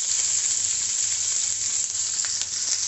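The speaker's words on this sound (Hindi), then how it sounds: "अब मैं इसमें प्याज डालूंगी। प्याज मैंने रफली चॉप की हुई है।" Roughly chopped onion fries in a pan after cumin has been roasted, for malai kofta, producing an even, continuous close-up sizzle with a faint low hum underneath and no talking.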